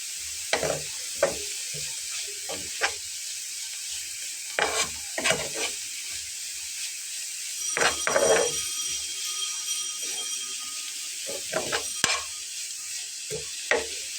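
Shredded cabbage with turmeric is stirred in a frying pan: soft sizzling underneath, punctuated by irregular scraping strokes of the spatula against the pan, each close and distinct with short pauses between.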